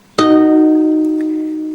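After a brief quiet moment a guitar chord is struck sharply, then rings and fades evenly, close and alone, during a guitar tuning lesson.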